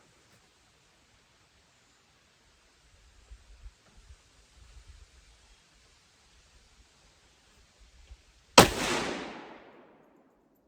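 A single 6.5 PRC rifle shot cracks sharply near the end, loud and close, then rolls away in a fading outdoor echo after several seconds of quiet background with faint rustles.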